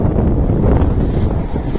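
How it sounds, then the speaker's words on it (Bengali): Strong storm wind in Dhaka roars steadily against the microphone, a loud, continuous buffeting rush with no break and no voices. "অনেক জোরে ঝড় হচ্ছে ঢাকার মধ্যে"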